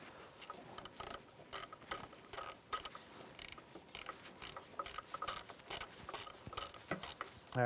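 A ratchet fitted with a deep socket snugs down engine bolts on a 2007-2013 Acura MDX, producing rapid bursts of clicking in uneven strokes, close and clear, with no talking.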